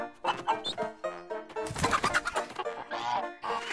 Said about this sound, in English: chickens with teeth!